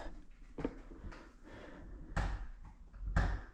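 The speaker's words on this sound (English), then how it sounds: "Got the cat trying to break out of the door." A cat rattles and thumps a door in short, irregular knocks, with two louder bangs near the end, fairly close in a quiet room.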